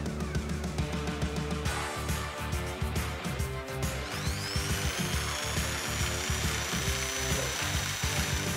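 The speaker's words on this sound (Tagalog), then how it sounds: "So ito po ang aming jigsaw is ginagamit po siya sa pag-angle ng cut sa plywood." An electric jigsaw of 550 watts cutting angled lines in plywood, its motor buzzing loud and close with a rapid rhythmic chatter from the blade, steady throughout.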